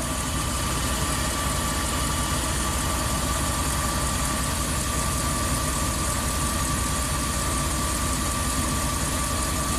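A Ram camper van engine, one with a fault that makes it stall after a hot soak, idles at close range with a steady, even drone and vibration that stays constant throughout.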